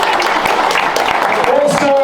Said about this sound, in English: You can give them a nice round of applause.